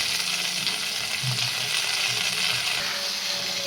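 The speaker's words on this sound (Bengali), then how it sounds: "দেখো গাটি কচুটাও দিয়ে দিলাম, মোটামুটি ভেজে নিয়েছি" Taro (kochu) frying in a pan gives a steady, moderately faint sizzle, with a few soft scrapes and clinks of stirring and no voices.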